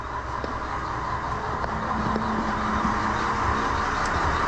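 The engine of the sailing yacht Pelagic Australis runs at low revs on passage from St Helena to Ascension Island, a steady, even mechanical hum heard close and alone without any voices.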